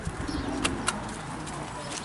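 Racing pigeons crated before release for a long-distance race make soft, close cooing and shuffling, with a couple of brief wing flaps, under faint background noise.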